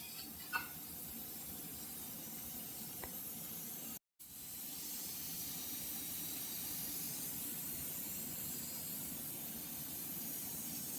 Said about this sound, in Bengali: এইটা এবার হবে এটা কষানো। ভালো করে কষাতে হবে এটা।